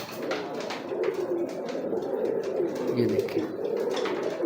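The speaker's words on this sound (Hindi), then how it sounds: "ये मोतियों वाला कबूतर है" A sturdy pearl-marked pigeon coos in soft, low, repeated phrases close by, while someone talks quietly over it.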